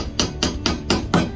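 A hammer strikes a kitchen knife five times in an even rhythm, each blow a sharp, close, loud metallic knock with a short ring, during cooking prep for a stuffed pumpkin with rice and meat.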